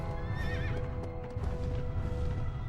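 Horse whinnying and clip-clopping hoofbeats from the Shadow of the Colossus video game on PS2, a rising neigh over steady trotting steps amid game music, moderately loud and close, with no talking.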